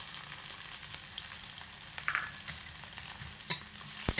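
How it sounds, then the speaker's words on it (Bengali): Medium onions cut into large pieces and whole garlic cloves fry in oil, a steady close hiss of sizzling with light crackles and one sharper pop near the end. "এগুলোকে খুব ভালো করে লাল লাল করে একটু ভেজে নেব"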